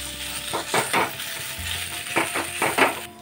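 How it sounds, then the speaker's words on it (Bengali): Boiled potatoes mashed in hot oil in a pan with poppy seeds, giving soft sizzling and a few squelching, scraping strokes in irregular bursts, close and alone. "ভালো করে এবার ম্যাশ করে নেব।"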